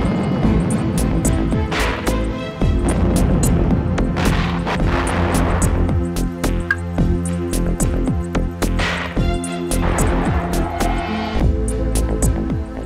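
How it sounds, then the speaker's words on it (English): Mortar high-explosive and white phosphorus rounds burst in battle, producing loud, dense booms and rumbling blasts that overlap continuously with sharp cracks on top, heavy and unbroken throughout. "The WP bombs burst with a characteristic flash and cloud of white smoke, while HE explode with a gray-brown mixture of dirt and smoke"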